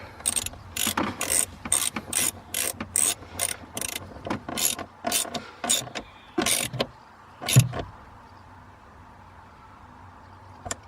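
A ratchet tightens a BMW battery terminal, clicking in quick repeated strokes, a steady series of sharp mechanical ratcheting bursts, then a final clunk and quiet.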